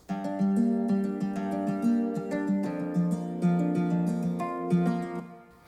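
Layered, doubled nylon-string guitar from Native Instruments Picked Nylon plays a gentle melodic pattern with widened stereo, full and wide, with steady picked notes and no voices.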